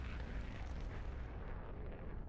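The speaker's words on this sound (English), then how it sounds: "There we go, missiles away." A PAC-3 Patriot missile launching in the combat flight simulator DCS World, a loud, sustained roaring rumble of rocket thrust that runs unbroken from start to finish, heavy in the low end and without any voices.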